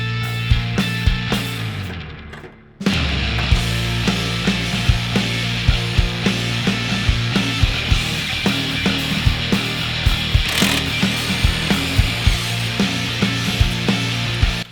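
A ratchet clicks steadily while two top bolts are loosened from the rear shock of a Mazda Miata, reached from inside the trunk, with a rapid, even train of sharp close-up ticks running for most of the stretch after a brief pause.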